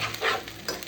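Onion noodles get a quick stir in a hot pan, giving a brief close scrape over a soft sizzle.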